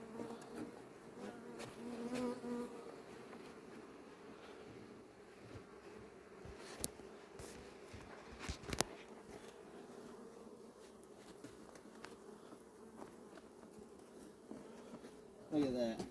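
Bees buzz around an opened beehive in a steady, faint drone, with a few scattered knocks and thumps and people talking quietly nearby.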